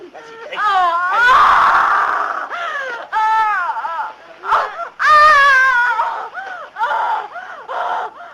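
A woman in labour screams and wails over and over during childbirth, loud and close. Her long cries rise and fall with brief gaps, in a 1983 fantasy adventure film.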